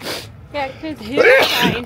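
A single sharp human sneeze bursts out near the start, close and loud, with people talking in Dutch before and after it.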